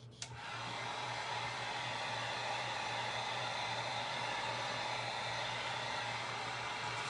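A hair dryer blows steadily on freshly painted wooden jingle blocks, a constant close whooshing drone that starts with a brief click and holds even for several seconds, with no talking.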